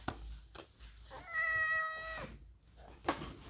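A tomcat lets out a single drawn-out, tonal meow in a quiet room, with faint rustling and small handling noises before and after.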